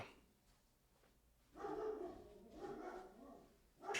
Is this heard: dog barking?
yes